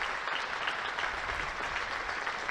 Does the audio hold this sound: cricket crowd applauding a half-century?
yes